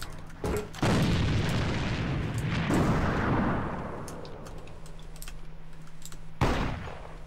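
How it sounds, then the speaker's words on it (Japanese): A grenade detonates in the shooter game AVA with a loud, close boom that rolls out into a long rumbling decay, followed by a second sharp blast near the end. "手榴弾を使うぞ。"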